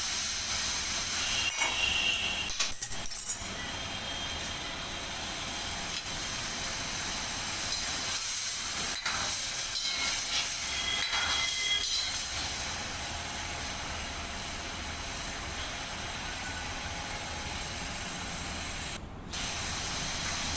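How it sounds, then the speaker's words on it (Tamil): A steady broadband hiss with soft bubbling and crackle as water with strained jaggery syrup comes to a boil in a pot, continuous throughout with a few brief clinks. "இப்போ தண்ணி கொதிக்க ஆரம்பிச்சுடுச்சு"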